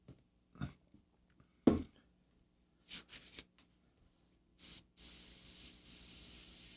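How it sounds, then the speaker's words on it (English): Black paint is sprayed over a miniature figure. Scattered clicks and short bursts lead into a steady, close hiss of spraying for the last couple of seconds. "You'll see when I spray it over this with the black"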